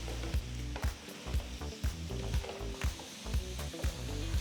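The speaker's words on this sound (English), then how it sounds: "So we're going to start roasting it in the masala mix." Potato pieces roasting in a walnut masala mix, a soft steady sizzle with regular knocks of a utensil stirring in the pan, close and fairly quiet.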